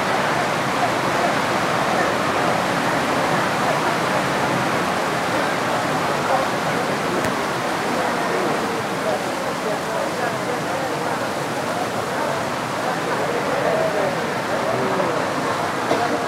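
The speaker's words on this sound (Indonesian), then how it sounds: "Tambah deras hujannya nih." Heavy rain pounds steadily on a roof, a dense continuous wash that holds a constant level throughout with no break.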